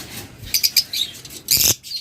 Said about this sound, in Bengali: দেখুন চমৎকার ফিশার জোড়া একদম দেখার মতো একটা কালার